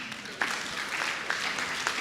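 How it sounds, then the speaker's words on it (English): Audience applause for a married businesswoman at a law-practice talk, a steady dense patter of clapping lasting the whole moment with a few louder individual claps standing out, moderately close and without talk over it. "Please, let's clap for her."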